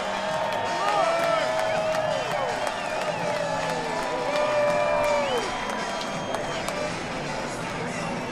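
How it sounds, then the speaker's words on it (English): A large grandstand crowd roars steadily as stock cars sweep past at the 2020 Daytona 500, a broad sustained wash of cheering with whistles and sliding engine tones, people talking over it. "a big roar from the crowd as they come past"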